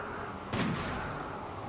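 A single sniper rifle shot cracks at a centipede in RimWorld, one sharp report with a short tail, fairly quiet and alone.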